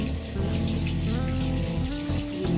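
Shower water runs steadily in a home bathroom, a continuous splashing hiss that fills the whole stretch at an even, fairly loud level with no voices over it.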